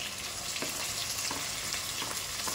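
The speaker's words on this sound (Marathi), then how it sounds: "आता चांगला लाल परतून द्यायचा. मध्ये बारीक चिरलेला टोमॅटो घालायचा आहे." Onion and finely chopped tomato sautéing in a pan, a continuous hissing sizzle with soft rhythmic stirring scrapes, fairly quiet and steady.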